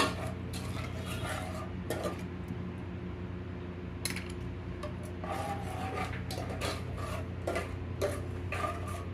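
A mixture for paneer pulao being whisked in a bowl, with brisk repeated scraping and clinking of a utensil against the bowl, close and steady throughout with no speech.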